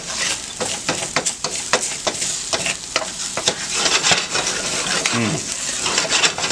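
Corned beef hash potatoes stirred and scraped in a frying pan, with steady sizzling and repeated metallic scrapes and clinks of a utensil against the pan, close up and fairly loud, with no talking.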